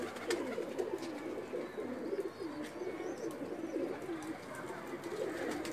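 Breeder pigeons of the lal pari type coo steadily in a continuous low, rolling chorus that fills the loft, close and moderately loud, with no talk over it.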